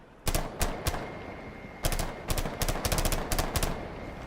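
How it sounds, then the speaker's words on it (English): G36 assault rifle firing in Rainbow Six Siege, heard as sharp single shots and then quick clustered bursts, loud and close with a faint steady tone underneath and no talking. "Recoil pattern on this is a little different. Yeah, the G36."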